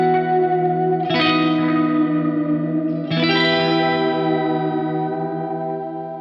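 Guitar chords run through a glitchy octave pitch-shifter pedal that warbles and stutters with octave layers, two strummed attacks ringing out with a glitchy, shimmering texture.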